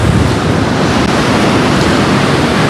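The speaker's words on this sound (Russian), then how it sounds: "Ну и как видите, на море шторм." Stormy sea surf pounds the shore at Anapa while strong gusty wind roars across the microphone, a loud, continuous wash of waves and wind noise with no talking.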